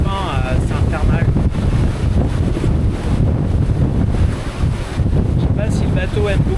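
Strong gusting wind buffets a sailboat in the Dodecanese, Greece, a loud rough roar with wind noise on the microphone, water and boat sounds beneath, and a voice speaking briefly at times.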